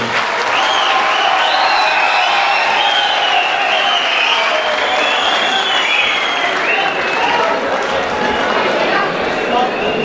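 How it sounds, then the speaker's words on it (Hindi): An audience at a poetry gathering applauds poet Waqas Aziz, arrived from Lahore, with dense sustained clapping and cheering from a large crowd, and some excited voices rising above the applause. "इनके लिए भरपूर तालियां।"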